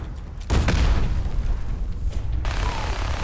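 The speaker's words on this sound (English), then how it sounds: "Oh, grenade." A grenade blast in Fallout 4, a sudden loud boom that rolls into a rumbling tail and then cuts to quieter game ambience.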